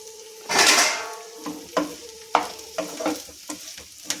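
Garlic frying in a pan for an okra chutney, a soft sizzle broken by a loud scraping stir and several sharp clinks of a utensil against the pan.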